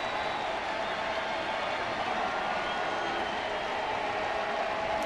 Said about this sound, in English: This big crowd is ready to explode.